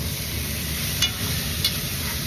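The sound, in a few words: stirring a pot with added Maggi bouillon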